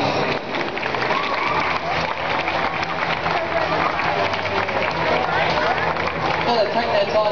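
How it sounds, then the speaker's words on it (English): Applause and crowd noise at a Dalek event at an air museum, a continuous mix of clapping, cheering and chatter from a large outdoor audience with voices throughout. "round of applause for the Daleks, please."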